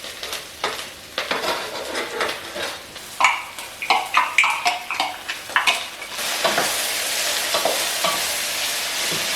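Eggplant added to onions frying in a pan for a Sri Lankan dish, stirred with a utensil in a rhythmic series of scrapes and clacks over sizzling, then a steadier, louder hiss.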